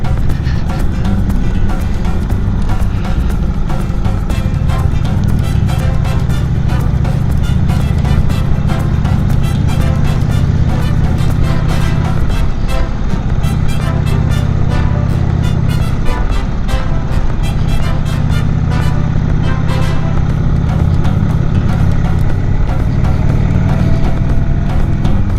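Road traffic heard from a moving motorcycle on a coastal road near the Seacliff Bridge, a loud continuous engine and wind roar with vehicle noise blended in, no talk.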